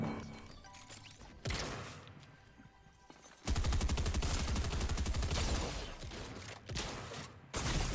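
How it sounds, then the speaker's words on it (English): Bursts of Fortnite gunfire in a no-build duos match: loud rapid volleys, with a sharp burst near the start, a dense sustained stretch of fire in the middle and further short bursts toward the end, with no talk. "How many f***ing shots does this guy want to take?"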